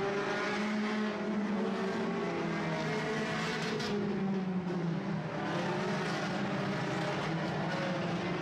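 Sport compact race cars at El Paso County Raceway roar through the turns of an oval track, several engines droning and overlapping with shifting pitch, steady and moderately distant.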